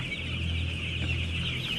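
Chickens cluck continuously in a large Thai broiler farm house of around 30,000 birds, a dense steady chorus with a constant mechanical hum beneath.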